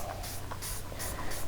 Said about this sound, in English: you're going to take and spray the plastic